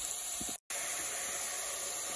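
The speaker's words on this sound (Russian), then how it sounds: "Мясо и лучок отправляем на сковородку на самый сильный огонь и немножко обжариваем." Diced meat and onion fry in a pan over the highest heat, a loud, even sizzle that holds steady apart from one brief cut-out.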